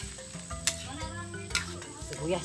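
Chopped onions sautéing in a pan during outdoor cooking give a steady mid-level sizzle with occasional stirring clicks, while a voice murmurs faintly in the background.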